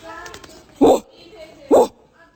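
A person imitates a dog barking at people, giving two loud, abrupt woof-like barks about a second apart, close to the microphone, with quieter talk around them.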